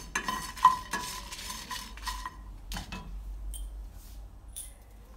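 Coriander seeds roasting in a dry pan with dried red chillies and black peppercorns for a Kerala roasted-onion chicken curry, giving faint, scattered crackles and pops along with a few light scraping stirs, close and quiet.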